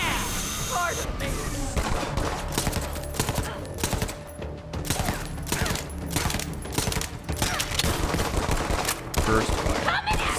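A dense, busy firefight in the shooter game Borderlands 3 crackles with overlapping shots and bursts from burst-fire and semi-automatic weapons, sharp reports stacking irregularly over a constant battle din.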